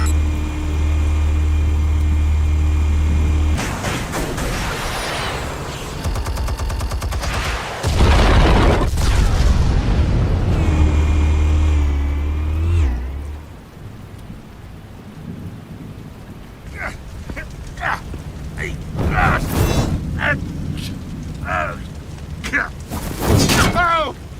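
Explosives detonate in the video game Batman The Telltale Series, heavy booming blasts with rumbling low-end and scattered debris crashes, followed by quieter rubble and impact sounds.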